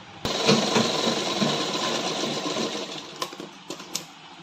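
Sewing machine stitching an Afghani salwar, running in a steady continuous whir for several seconds, then pausing and restarting in short bursts near the end, close and fairly loud with no talk.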